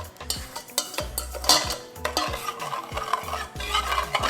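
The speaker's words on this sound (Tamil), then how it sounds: "இப்போ நெய், ஏலக்காய், அந்த ஜீனி எல்லாம் வந்து மிக்ஸ் ஆகிற மாதிரி நல்லா மிக்ஸ் பண்ணி விட்டுறலாம்." Ghee, cardamom and sugar stirred together for coconut burfi, close rhythmic scraping strokes of a spoon around a pot repeating every half second, with faint sizzle and no talk.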